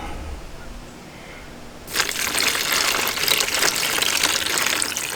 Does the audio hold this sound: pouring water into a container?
yes